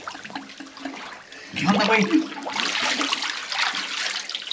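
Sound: water flowing in a tunnel under the city

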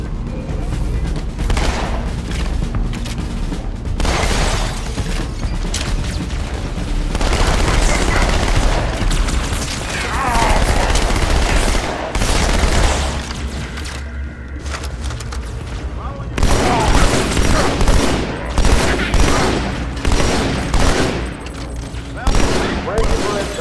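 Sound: gunfire in video game Halo 2 Anniversary

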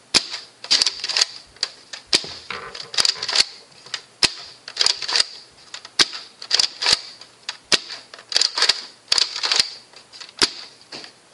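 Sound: Nerf Longstrike blaster firing darts

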